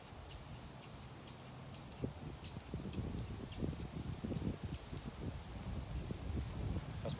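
Short repeated bursts of an airbrush or spray gun applying orange paint to the belly of a fishing lure, soft hissing pulses about every half second over a faint background rumble.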